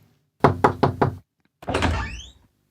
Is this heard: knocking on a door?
yes